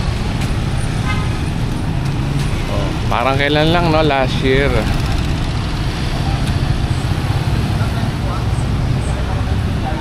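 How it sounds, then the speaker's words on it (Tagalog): Motorized tricycle ride along a road in Zambales, a constant rattling engine drone with road noise throughout, while someone talks briefly over it. "So, dito kami sasakayan ng tricycle."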